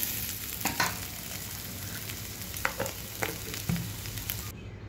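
Spiced potatoes fry in a pan with a steady low sizzle, broken by a few clear scrapes and knocks of stirring, close and moderately quiet.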